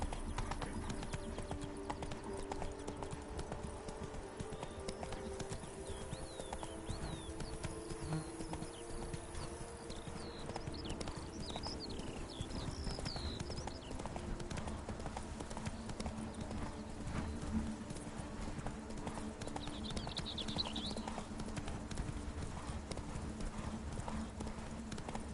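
Horse hooves clip-clop in a steady rhythm throughout a PS4 game scene, under quiet in-game ambience, a few faint bird calls and brief speech.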